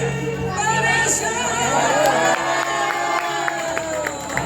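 A crowd at a Janmashtami Matki Phod festival cheers and shouts for performers, a dense wash of voices with whoops and some clapping, loud and continuous.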